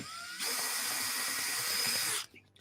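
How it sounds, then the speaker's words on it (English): A power drill bores a pilot hole in a workshop, whining in one loud, high, steady burst for just under two seconds, then stopping abruptly. "I'll go ahead and drill this next one in here, make sure that it's lined up, and drill in the next one."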